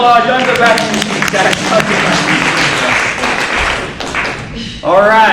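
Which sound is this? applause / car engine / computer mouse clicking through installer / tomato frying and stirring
applause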